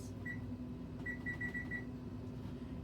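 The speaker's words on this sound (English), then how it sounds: "so I'm going to set the timer for 5 minutes" A digital timer on a Presto stovetop pressure canner setup is set with a short series of high, thin electronic beeps, one, then five in quick succession, faint over a steady room hum.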